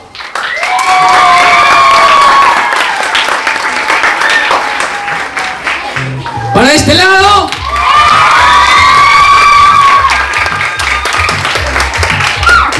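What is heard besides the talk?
applause and cheering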